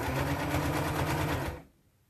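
A sewing machine runs fast and loud, stitching a T-shirt dress in a steady rhythmic chatter that stops abruptly, leaving near silence.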